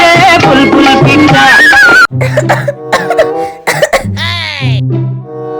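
A voice is followed by several sharp, close coughs in quick succession, with brief vocal sounds between them.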